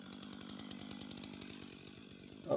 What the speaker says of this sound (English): That thing, the electronic ignition and good sharp chain, that thing just cuts off so nice, so fast.